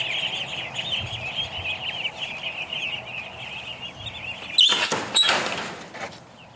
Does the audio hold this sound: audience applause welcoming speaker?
no